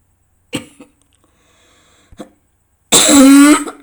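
A short throat sound is followed by a second brief one, then a loud, harsh cough bursts out close to the microphone near the end.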